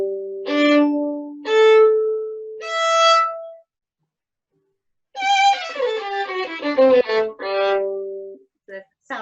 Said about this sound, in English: The sound of the violin.